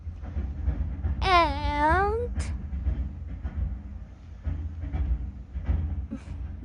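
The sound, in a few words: subway train running in Toronto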